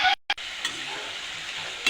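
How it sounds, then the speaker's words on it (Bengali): Small nimki snacks sizzle steadily in hot oil, a close, continuous crackling hiss with a brief gap near the start and no voices. "আমি আস্তে আস্তে জাল দিয়ে ভেজে নিয়েছি দেখুন।"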